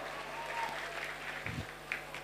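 Applause from an audience at a Kali puja jatra event, a faint, steady patter of clapping heard from a distance through the whole clip.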